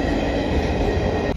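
A train rolls slowly past a railway level crossing, its steady rumble and rail noise continuous and close throughout, with no voices.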